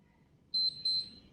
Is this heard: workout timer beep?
yes